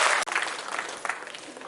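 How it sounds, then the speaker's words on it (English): Audience applause for a group of singers at a live music show, a dense crowd clapping steadily throughout with a brief dip near the start. "So a huge round of applause for all the singers in the house over here"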